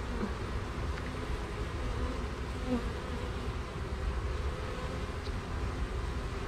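A dense, continuous hum of many package honey bees buzzing together while being installed in a top-bar hive, steady and close, with no voices.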